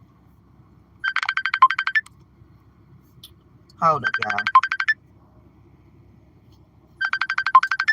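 A phone ringtone plays in three separate bursts of rapid, bright electronic tones with pauses between them. A person speaks briefly over the middle burst.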